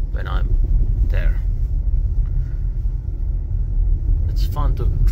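Tesla Model Y driving along an unplowed snowy back road, a steady low rumble of tires and road noise throughout, with brief speech over it.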